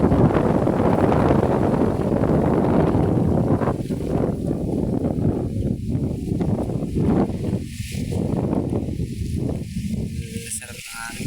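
Wind blows outdoors among small trees and plants, buffeting the microphone in a loud, continuous rushing roar that eases into gusty bursts toward the end.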